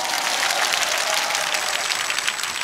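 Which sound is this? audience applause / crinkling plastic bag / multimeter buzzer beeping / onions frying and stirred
audience applause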